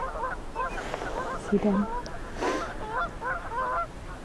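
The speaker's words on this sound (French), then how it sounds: "des oies sauvages se font la cour." Wild geese courting on open water honk in a repeated, uneven series of calls, moderately close, while someone talks over them.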